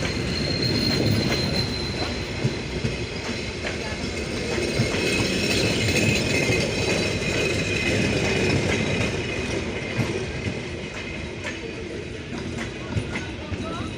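Rupsha Express intercity train, Chilahati to Khulna, with locomotive 6636 running long hood forward, rolls into a station with a loud, steady rumble of wheels, rail clatter and squeals throughout.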